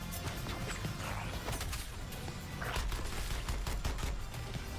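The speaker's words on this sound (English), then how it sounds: "Cannon is deploying its beam weapon." A cannon firing its beam weapon in the Suicide Squad: Kill the Justice League video game, a dense, continuous barrage of crackling blasts and impacts, mid-level and unbroken for several seconds.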